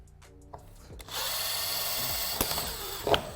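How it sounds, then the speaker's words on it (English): A power drill with a 3/16 drill bit set to medium speed bores out a rivet on a C7 Corvette undertray, a steady close whine and grind running for a few seconds with brief bites and clicks near the end. "What I do, I use a 3/16 drill bit. I set my drill to medium,"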